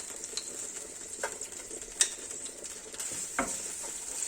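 Garlic frying in oil in a pan for a chicken escalope dish: a soft, steady sizzle with a few sharp clicks and light utensil taps, close and moderately quiet, without talk.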